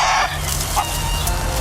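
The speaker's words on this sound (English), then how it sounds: "they were being outsmarted by the hens" Hens clucking close by, a steady stream of short fowl calls over a constant background hum, with one brighter call standing out midway.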